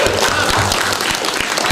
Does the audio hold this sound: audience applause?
yes